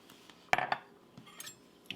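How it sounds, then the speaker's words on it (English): A spoon stirs melted butter and powdered sugar in a measuring cup for molasses cookies. Soft, quiet scraping runs throughout, broken by several sharp clinks of utensil against the cup, two of them louder and close together. "I'm going to just mix that up a little bit."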